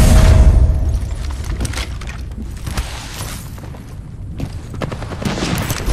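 Video game gunfire aimed at a cargo bot, a loud burst of shots at the start followed by sustained rattling fire and scattered reports, with mechanical clatter in the background and no talk.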